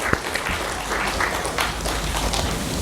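An audience gives a round of applause for the panelists at a consultative workshop in Karachi, a brief dense burst of clapping from a room of people at moderate loudness.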